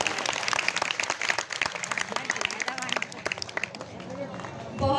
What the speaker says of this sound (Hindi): गौतम जी के लिए जोरदार तालियां